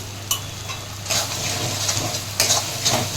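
Chopped tomato and turmeric powder frying in spiced oil, a steady sizzle with louder bursts as the pieces hit the pan and scraping stirs, close and alone.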